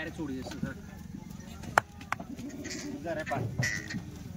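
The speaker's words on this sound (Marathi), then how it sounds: "या बघा शेळ्या." Kathewadi goats bleat in a livestock pen, with a few short calls scattered over steady background chatter and a couple of sharp knocks, while people talk nearby.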